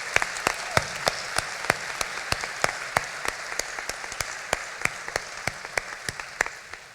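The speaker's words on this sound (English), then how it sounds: "please join me in giving them another round of applause" Applause from the audience at a 2017 law school graduation ceremony at the University of Louisville, a soft bed of clapping slightly distant, with crisp separate claps popping out at a fairly regular pace.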